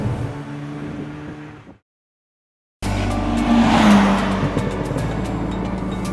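A Porsche 914's rebuilt straight-six engine growls and revs loudly through the exhaust, cutting out briefly, then returning with a strong rising blat.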